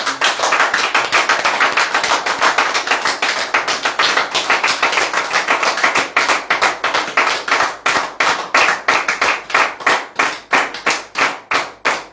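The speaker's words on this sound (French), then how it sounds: "pourquoi quelqu'un n'applaudit pas le Seigneur?" A church congregation claps for the Lord, loud and close, a dense burst of many hands that settles into a steady, rhythmic unison beat for about twelve seconds, with no voices over it.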